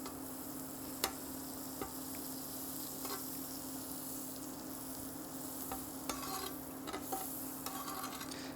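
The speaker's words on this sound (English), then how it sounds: "putting a couple teaspoons of butter down in our cast iron here while it preheats. Just gonna use the spatula to move it around" Butter sizzles steadily in a preheating cast iron pan, a continuous frying hiss with occasional light scrapes and taps as a spatula spreads it around.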